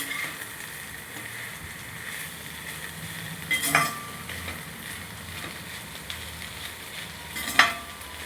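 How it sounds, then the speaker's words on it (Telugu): Bitter gourd and raw prawns fry in a pan until reddish, a soft continuous sizzle with occasional stirring and a couple of sharper scrapes of a utensil against the pan. "అలా కాకరకాయ పచ్చి రొయ్యలు ఫ్రై చేసుకోవాలి"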